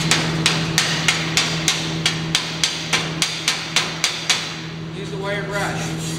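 A chipping hammer knocks slag off an arc weld in a steady run of about a dozen sharp, close metallic strikes over a constant hum, then stops.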